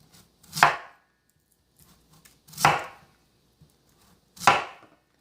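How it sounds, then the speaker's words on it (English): Knife chopping vegetables for kimchi on a cutting board, three loud, sharp, close chops spaced about two seconds apart with quiet gaps between. "This is why you use a cutting board when you're cutting."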